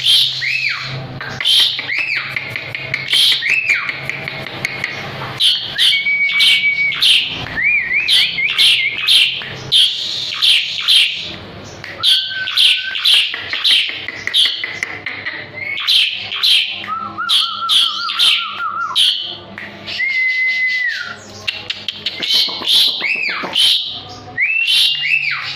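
An Asian pied starling (jalak suren) sings loudly and close by, pouring out bursts of whistles, chirps and sliding notes with only short pauses between phrases.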